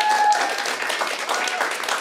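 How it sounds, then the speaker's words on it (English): Studio audience applause on a game show as departing contestants leave, a moderate round of clapping with voices and music-like tones mixed in. "Give them a round of applause as they leave on their way home."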